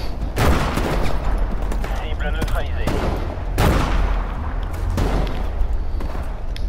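Gunfire in Call of Duty Modern Warfare on PS4: loud close shots and bursts crack out repeatedly over a steady game background, including a couple of especially sharp reports.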